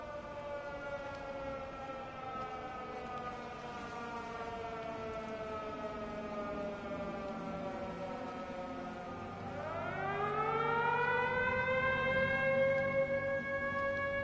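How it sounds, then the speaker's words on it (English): An air raid siren in the video game Everybody's Gone To The Rapture wails loud and sustained, its tone sliding slowly downward before swooping back up sharply into a rising, louder howl. "Just wanted to confirm that that siren was the game and not the golf course that I live next to."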